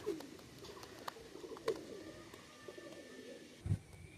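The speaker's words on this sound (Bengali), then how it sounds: "এটা হচ্ছে ব্যান্ড গলার কবুতর" A band-necked pigeon coos softly in a loft, with scattered faint calls and a few short notes, one deeper, louder coo near the end, nearby birds adding light chirps.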